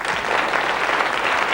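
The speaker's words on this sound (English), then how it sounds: "give them a nice round of applause" A 1979 television game show studio audience applauds the contestants with steady, even clapping that fills the room, with no talk over it.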